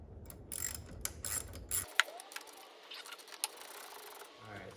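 Ratchet clicks and metallic tool rattles as the negative battery terminal is loosened on a GM truck, a quick series of close, sharp ticks and clanks with a low hum cutting out partway through.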